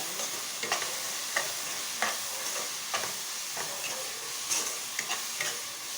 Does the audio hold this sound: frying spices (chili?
yes